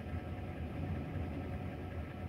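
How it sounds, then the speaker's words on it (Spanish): A truck engine running, played back through a speaker at medium volume, makes a steady low rumbling drone that stays even and fairly quiet throughout. "Así se escucha el ruido de ese motor"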